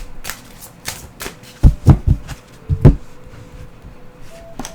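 Journey Oracle cards being shuffled by hand in a quiet room, a series of crisp riffling bursts with a few louder close snaps in the middle, no talking.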